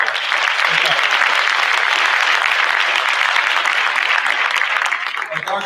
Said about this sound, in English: Varsity girls, yes, another round of applause for that.